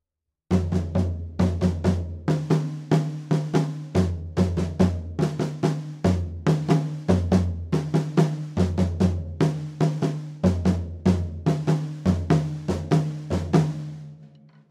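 A hand drum is struck with both hands together in a steady repeating pattern, with crisp, evenly spaced hits and no voices.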